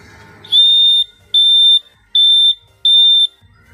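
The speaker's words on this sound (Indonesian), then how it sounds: "B itu terdiri dari garis titik-titik-titik dan bunyinya sebagai berikut." Four evenly spaced electronic Morse beeps, each a steady high tone of roughly half a second, spelling the letter B, close and clear with short silent gaps between them.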